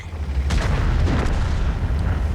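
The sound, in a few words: tank cannon shot, World of Tanks video game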